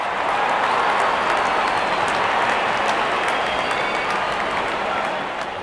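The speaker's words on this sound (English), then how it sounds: "The crowd is enjoying every bit of this action." A large cricket stadium crowd at a Pakistan versus India match roars with sustained cheering and dense applause, loud and continuous throughout, easing slightly at the end.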